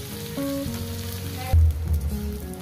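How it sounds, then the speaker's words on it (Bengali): Potatoes, onion and okra fry in a pan with a steady close sizzle and crackle, a brief stir or shift midway making it briefly louder, with no talking. "ছড়িয়ে ছড়িয়ে দেবেন যাতে সুন্দর করে আলু, পেঁয়াজ, ঢেঁড়স সব কিছু ভাজা হয়ে যায়।"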